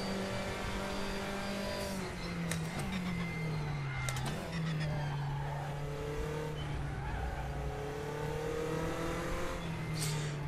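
A race car's engine in the Raceroom racing game drones and revs continuously, with pitch sweeping up and down through gear changes and brief tire squeals.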